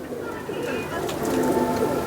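A pigeon coos in low, rolling bursts close by, its throaty murmuring running through the brief moment beneath a faint background hum.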